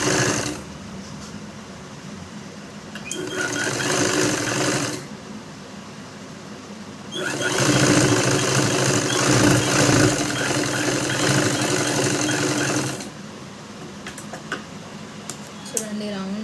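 A sewing machine runs in two long bursts of steady, rapid whirring while stitching around the curved edge of a blouse lining. Someone talks between and over the runs.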